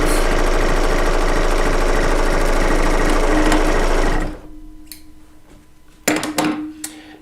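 A serger sewing machine stitches quilt strips together with a loud, fast, steady mechanical whir that stops abruptly partway, followed by a few handling clunks and rustles.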